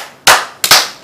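Two sharp hand claps in quick succession, close and bright, during a children's clapping game, the second arriving about half a second after the first, with no voices.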